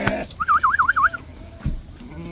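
A sheep in a flock offered for sale gives one clear wavering bleat, close by and fairly loud, over a low background of farmyard noise and scattered knocks.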